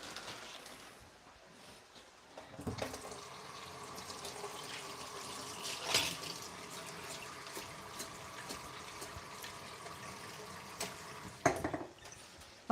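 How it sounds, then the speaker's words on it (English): Tap water runs softly over shredded carrots being rinsed in a kitchen, a low continuous splash with a few louder spurts and clatters. "I like to rinse them off a little bit."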